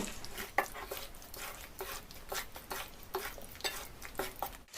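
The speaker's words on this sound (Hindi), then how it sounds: "इस तरह लगातार चलाते हुए हमें 8 से 10 मिनट तक भुनना है, ताकि आटा कच्चा ना रह जाए।" Flour being continuously stirred and roasted in a pan, a soft, close scraping and rustling repeated in an irregular rhythm with faint sizzling underneath, fairly quiet overall.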